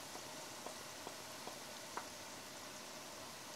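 Turmeric, chili powder, coriander and cumin powder sizzling in a hot pan for a king fish masala, a faint steady frying hiss with a few soft clicks from stirring.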